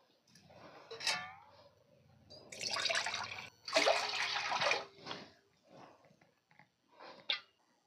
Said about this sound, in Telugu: ఇప్పుడు స్టవ్ మీద కడాయి పెట్టుకొని ఇందులోకి 2 చెంబుల వాటర్ పోసుకోవాలి